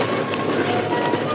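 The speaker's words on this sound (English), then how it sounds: "Boss, it is a train." A steam train in a western setting approaches near a river trestle, a steady close rumbling rush with faint high squeals on top, continuous and loud with no talk.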